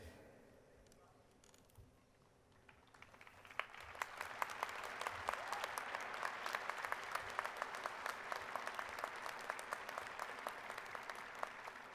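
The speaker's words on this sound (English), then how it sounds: "Well-deserved applause." A large commencement crowd at the University of Idaho applauds the standing faculty, starting faint and swelling into steady, dense clapping that fills the hall and holds to the end.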